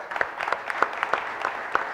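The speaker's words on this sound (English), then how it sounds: "Round of applause, Crowd Compass." An audience applauds at a tech-industry talk event, a steady wash of many hands clapping with scattered sharper claps standing out, fairly close and continuous throughout.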